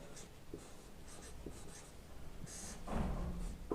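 Marker writing out the dividend-divisor formula on a board in a police constable exam maths class: a few close scratchy strokes in short bursts, with a longer, heavier stroke near the end, and no talking.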